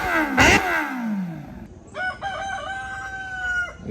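A single rooster crows at mid-distance in a drawn-out call along the Marilaque mountain road, just after a motorcycle whooshes past.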